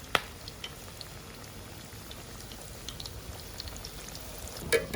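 Vada fry in hot oil with a faint, steady bubbling sizzle and a few small pops, with no talking.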